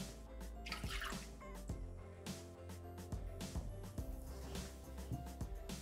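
Milk runs into a Thermomix mixing jug in a quiet, continuous trickle with light drips and knocks over a low steady hum.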